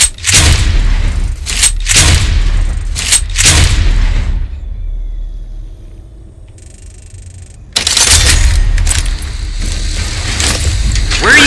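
Rocket launcher blasts and gunfire in the Far Cry 6 shooter game, several loud booming bursts in quick succession, a quieter lull, then another sustained stretch of heavy explosive noise.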